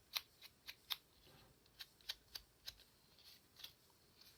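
Scissors snip along the paper edge of a small handmade notebook, about a dozen short, crisp cuts in an uneven rhythm, close but quiet, with no voices.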